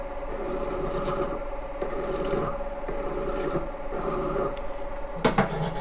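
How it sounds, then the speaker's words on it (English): A coarse hand file rounds over a metal edge on a wood lathe spindle locking pin, with four or five steady rasping strokes evenly spaced and close, then a couple of sharp clanks at the end. "So now I'm just going to round over this edge, starting with a fairly coarse file here."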